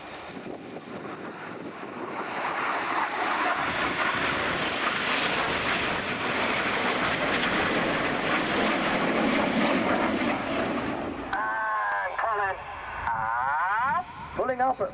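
An RAF Tornado jet bomber flies past at the RIAT 2016 air display, a loud, sustained roaring rush that swells and fades, with a commentator's voice heard near the end.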